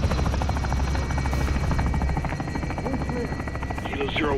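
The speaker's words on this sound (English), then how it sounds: "I thought they brought a big ass helicopter." Heavy helicopter rotor thumping steadily and loudly throughout in a Call of Duty MW2 campaign mission, a dense pulsing chop with engine whine, while voices talk over it near the end.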